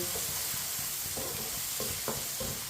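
Tomatoes sizzle and cook in a pan for kala chana, a dense continuous frying hiss broken by repeated soft stirring scrapes.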